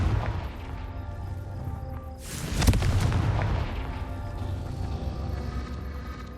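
A Confringo spell blast in Hogwarts Legacy, one sharp fiery burst followed by a rumbling decay over quiet game ambience.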